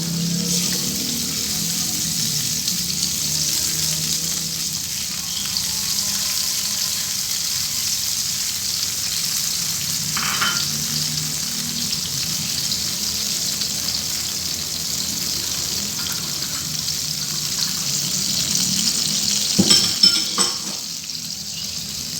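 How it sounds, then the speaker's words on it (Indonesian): Tempeh stirred in a pan with tamarind water and palm sugar syrup, a steady low bubbling and sizzle with occasional scraping knocks of the spoon, growing slightly louder near the end. "Kita aduk dan biarkan sampai sedikit mengental, sampai mendidih dan sedikit mengental."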